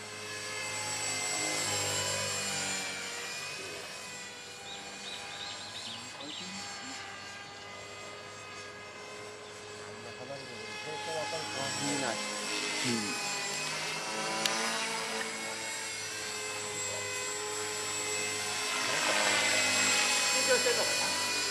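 A helicopter flies close by, its loud, steady engine and rotor drone running throughout and swelling again near the end, with voices murmuring underneath.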